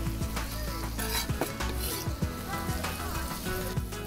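Onions sizzle in a hot pan while utensils scrape and clink against it, steady and close with no voices.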